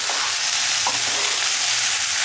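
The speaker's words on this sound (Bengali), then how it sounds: "পাস্তার জন্য একটু সবজি ভেজে নিচ্ছি" Shredded cabbage and other vegetables fry in a pan for pasta, giving a loud, continuous, close-up sizzle with a faint clink or two and no speech.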